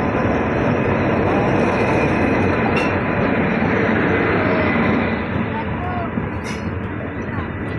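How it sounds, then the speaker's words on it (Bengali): Express train on the Katihar to Howrah route pulls into Sujnipara railway station: a loud, steady, heavy rumble of wheels and carriages runs throughout, easing slightly near the end, with people talking over it. "আমাদের ট্রেন এখন ঢুকছে সুজনিপাড়া রেলওয়ে স্টেশন।"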